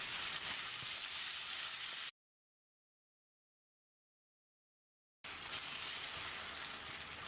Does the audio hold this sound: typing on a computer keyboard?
no